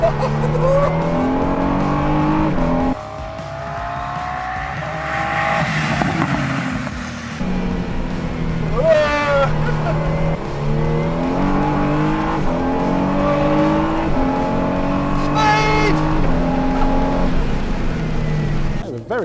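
A Praga hypercar screams around a race track, its engine repeatedly revving up and dropping through gear changes at close range, with occasional voices alongside.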